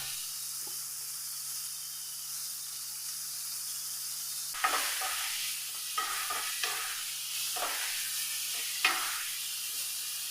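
Vegetables with green chillies and carrots are sautéed with salt in a pan, giving a constant sizzle broken by several distinct scraping stirs, with no voices.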